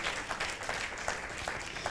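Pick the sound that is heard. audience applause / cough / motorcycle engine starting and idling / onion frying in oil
audience applause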